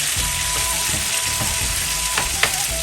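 Chopped pineapple with two green chillies sizzles in a hot pan for a Kerala pineapple pachadi, a steady loud fry broken by scraping stirs and a sharp clack near the end.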